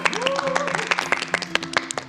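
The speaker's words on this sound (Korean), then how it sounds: "박수로 청해 듣겠습니다" A studio audience at a morning TV art lecture claps to welcome a docent, crisp scattered claps over a sustained musical tone and a voice.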